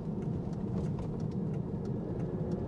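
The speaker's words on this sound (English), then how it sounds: "And that V12, open that V12 up." An Aston Martin DB9's V12 engine opens up while driving, a steady loud broadband roar from inside the car, heavy low rumble with road and wind noise, no clear rising rev sweep.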